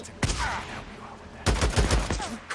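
Close-range shotgun blasts from an enemy in the video game Days Gone on hard mode, a few loud booming shots with a short gap between the first and a later cluster, with faint talk underneath.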